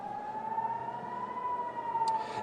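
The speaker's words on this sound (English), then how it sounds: "right now we have air raid sirens that are sounding across Israel's second largest city of Tel Aviv." Air raid sirens sound across Tel Aviv, Israel, as a sustained, steady wailing tone that carries over the city with a slightly distant quality, alone without speech.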